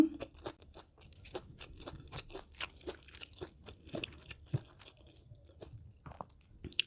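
Crunchy fried pork being chewed up close at a Thai eating show, a steady run of crisp, sharp crunches and bites with soft mouth noises between them, no talking.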